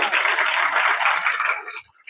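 An audience claps loudly at a roadside gathering in Jaipur, a steady dense burst of applause that runs for well over a second, then fades out abruptly.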